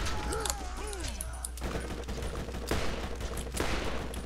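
Rapid bursts of gunfire from the Borderlands video game crackle in repeated volleys over a steady backdrop of game sound effects and music, fairly loud and dense throughout.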